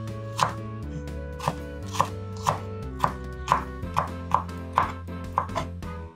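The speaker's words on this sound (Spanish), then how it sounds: "cortar los trocitos pequeños." A knife chops vegetables into small pieces on a board in about a dozen crisp, evenly spaced cuts, close and clear, with nothing else heard.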